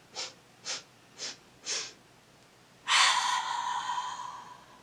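Four quick, sharp sniffs through the nose in a steady rhythm, followed by a long, loud exhale that slowly tapers off.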